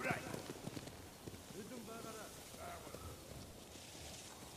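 Horses in Ghost of Tsushima run off in the grass, a flurry of quick clip-clopping hooves, faint and somewhat distant, under talk and ambient game sound.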